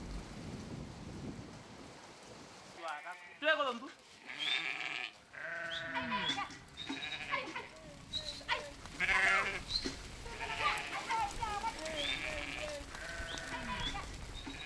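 Goats bleat repeatedly at a well dug in a dried-up desert riverbed, with several wavering calls overlapping up close and livestock shuffling and herders' voices in the background.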